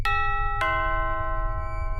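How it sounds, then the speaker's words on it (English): A two-tone doorbell chime rings once at 4 a.m., a bright ding followed by a dong, ringing out clearly over a low background hum. "Who rings your doorbell at 4 a.m.?"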